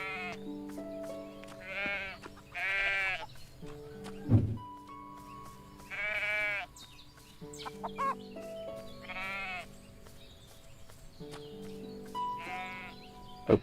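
Sheep bleat in a farming game: about five drawn-out, wavering cries come at intervals against quiet background music. A single dull thunk falls in the middle.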